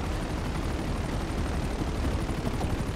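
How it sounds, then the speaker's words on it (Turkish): Machine gun fire in Grand Theft Auto V during the Smuggler Run DLC, a dense continuous rattle of rapid shots lasting the whole stretch, loud and steady with no talking. "Sadece machine gun"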